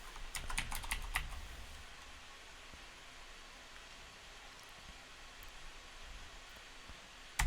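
Typing on a computer keyboard, a quick burst of close clicking keystrokes at the start followed by quiet room noise, with a single sharp key press right at the end.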